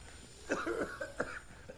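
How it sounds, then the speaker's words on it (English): Someone coughs in a room, a few quick rough bursts followed by a smaller one, faint and close, with no speech. "So much coughing."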